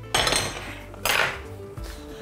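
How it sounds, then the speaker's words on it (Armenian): A metal lid is set onto a pot of lamb and quince stew, two loud clanking contacts about a second apart followed by a brief rattle as it settles, with no voices. "Վերջ, ծածկում ենք կափարիչով"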